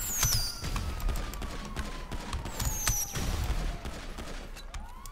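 Police open fire on a suspect in the video game GTA 5, a rapid burst of loud gunshots and thuds over steady background noise, with faint whistling streaks mixed in.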